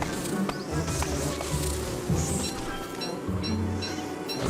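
Bees buzzing continuously in the video game Don't Starve Shipwrecked, several drones layered and overlapping, with small electronic chimes and clicks over a steady game soundtrack.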